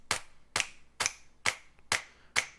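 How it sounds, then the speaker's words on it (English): A dry electronic clap sample hits six times at an even pace on the downbeats of a future bass build, each hit sharp and isolated with a short tail. "I have this clap"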